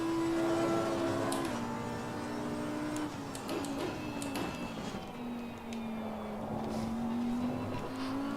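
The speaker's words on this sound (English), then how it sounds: "Can already hear the traction control engaging there" An Audi GT3 race car in a racing game at night, its engine droning steadily while traction control intervenes, causing stuttering dips and brief pitch drops along with intermittent crackling bursts, moderately loud throughout.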